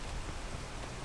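Steady rain falling outdoors during a jungle trek, a soft, even hiss of drops on leaves and ground, faint and continuous with no voices.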